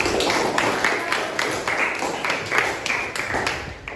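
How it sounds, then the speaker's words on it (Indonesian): Classroom of students clapping for a student group after a presentation, a fairly loud, slightly uneven stretch of hand claps from a small crowd, with some talking mixed in. "Kasih tepuk tangan buat kelompok 2"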